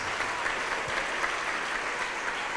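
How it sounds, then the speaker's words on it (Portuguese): A church congregation claps together during a pastor's sermon, applauding in the name of Jesus, the sustained and even clapping filling the room for the whole stretch. "Vamos aplaudir ao nome de Jesus."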